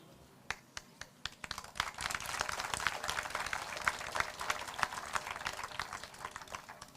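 Audience applause after a campaign speech asking for a mandate, a scattered burst of hand claps that swells into steady, dense clapping for several seconds and then thins out again.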